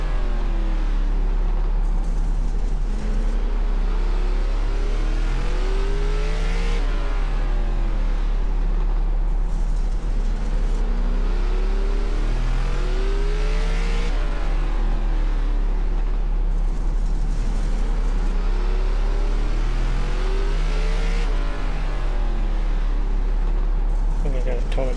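Racing engines of ARCA stock cars in iRacing at the LA Coliseum rise and fall steadily through repeated revving sweeps over about 25 seconds, with someone talking over the continuous drone.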